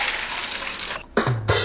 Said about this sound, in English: Now pour your water into the same snow bucket.